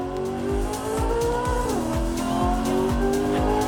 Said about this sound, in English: Sound of the engine is amazing, just like the real thing.